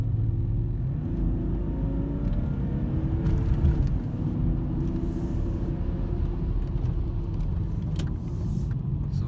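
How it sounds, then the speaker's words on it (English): The engine and exhaust of a 1996 BMW E39 Alpina drone low and steady inside the cabin, a constant rumble with slight rises as it pulls, no talking. "you get to hear the exhaust quite a bit"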